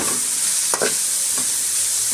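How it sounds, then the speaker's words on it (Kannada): Shredded cabbage and carrot frying in hot oil for veg fried rice, a loud, dense, continuous sizzle with a couple of brief stirring scrapes, no speech. "ಕ್ಯಾಬೇಜು ಕ್ಯಾರೆಟು ಸಹ ಎಣ್ಣೆನಲ್ಲೇ ನಾವು ಫ್ರೈ ಮಾಡೋದ್ರಿಂದ"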